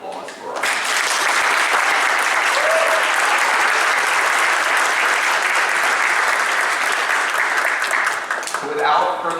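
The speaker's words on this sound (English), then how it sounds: "would we please have a round of applause for us" Dinner guests at a university honors program banquet break into loud, sustained applause lasting several seconds before fading, with a voice briefly heard near the end.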